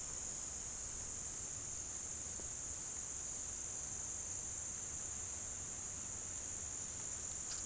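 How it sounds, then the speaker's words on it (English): Crickets chirp in a continuous high, even drone in a very quiet early-morning outdoor spot, steady and moderately faint throughout with no voices. "You can sit here and hear crickets"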